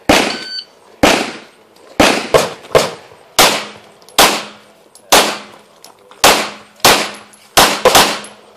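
Pistol shots during an IDPA shooting stage, a string of loud sharp reports fired in irregular pairs and singles, each ringing out briefly outdoors.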